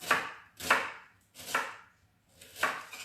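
Fennel cut into strips with a knife on a board, four crisp separate chops about three-quarters of a second apart, close and clear with quiet gaps between them.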